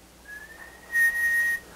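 A person whistles a steady tone during an acoustics lecture, a thin rising note that settles into a sustained, louder pitch held for about half a second, with no talking.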